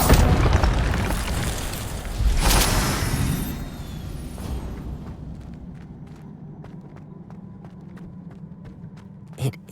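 Incendio fire spell blasts in the Hogwarts Legacy video game: a loud booming burst at the start with another heavy boom around two seconds, rumbling tails fading into quieter thuds and footstep-like taps.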